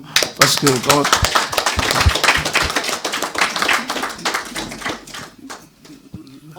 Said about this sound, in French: j'en profite quand même qu'on puisse l'applaudir quand même